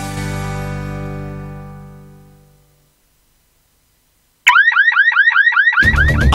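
Electronic property alarm in a Uruguayan radio advertisement: a tone fades into silence, then a loud warbling siren repeats rapid rising sweeps, joined near the end by a harsher pulsing alarm.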